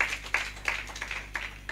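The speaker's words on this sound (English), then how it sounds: "Clap for that." A church congregation claps during a sermon, with sharp, fairly regular claps standing out above a softer bed of scattered hand claps, moderately distant and without talk.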